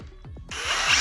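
A power drill whirs briefly after a few short bumps, hanging an interior door hinge, steady close-up tool noise swelling toward the end.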